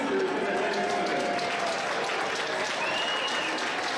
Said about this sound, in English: we'd like to give a round of applause to all of the Totino-Grace teachers in attendance today